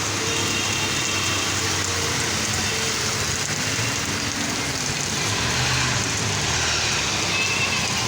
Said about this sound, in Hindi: ओह अब तेज़ हो रही है बारिश